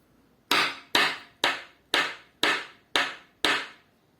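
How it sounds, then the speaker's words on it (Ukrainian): Seven sharp taps of a spoon on a table, evenly spaced about half a second apart, each with a quick decay, close by and alone. "Це я ложкою стучала по столу."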